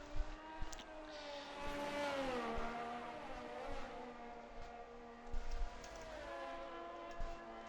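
Race car engines held at full throttle in a racing video game, with several harmonic engine tones rising and falling together as cars run in a pack, steady and moderately loud with no talk.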